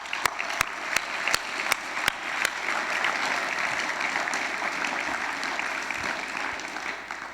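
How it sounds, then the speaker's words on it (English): A few sharp claps ring out at first, then a crowd at a graduation ceremony breaks into steady, sustained applause that fills the space for several seconds. "let's give them a big round of applause"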